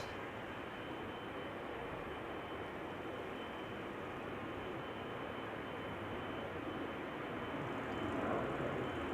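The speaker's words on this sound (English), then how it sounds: "KLM flight 1955 just took off in the background" A KLM airliner departs Amsterdam Schiphol, its engines a steady, fairly distant broadband roar that swells slightly toward the end, with no voices over it.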